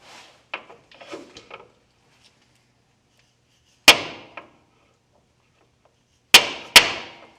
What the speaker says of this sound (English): let's see what happens with the red hammer